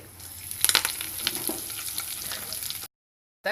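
Curry leaves and tempering seeds sizzling in hot oil for a cluster beans fry, a close, crackling spatter with brief pops that holds steady before cutting out abruptly and returning at the end.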